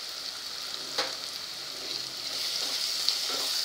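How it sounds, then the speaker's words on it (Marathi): Turmeric sizzling in a hot pan with crushed green chilli paste, for green chickpea rice: a steady close hiss of frying with a few stirring scrapes and no voices. "हळद छान रंग येईपर्यंत परतून घ्यायची आपल्याला."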